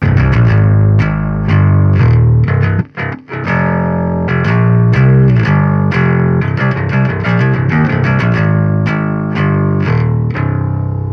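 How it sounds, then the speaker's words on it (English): Distorted bass guitar through an amp simulator with a low cut filter plays a busy metal riff with tight, clean low end, notes rapid and even, briefly pausing near the start before continuing. "have a listen how much that cleans up our distortion"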